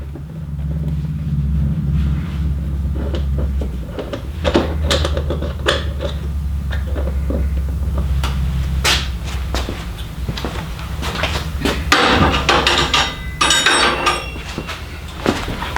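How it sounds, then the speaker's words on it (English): A 10mm wrench works the seat bolts on a Kawasaki KLR650, giving scattered metallic clicks, ratcheting taps and clunks over a low steady rumble, growing busier toward the end. "Now I'm going to use a 10mm wrench to go in here, and these are the seat bolts."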